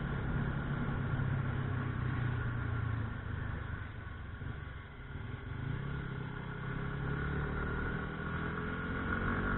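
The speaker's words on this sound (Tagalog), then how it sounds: "Sobrang lumakas yung motor ko." A motorcycle engine runs steadily and loud throughout, a low mid-range drone with harmonic bands that swell slightly, dip around the middle, then build again as if picking up speed, with no talk.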